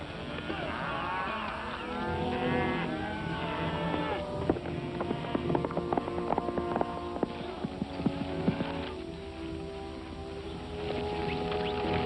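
Cattle low and moo amid a busy mix of clopping hooves and clatter as a herd is unloaded on a Rocky Mountain ranch in a 1951 Western, with steady background noise throughout.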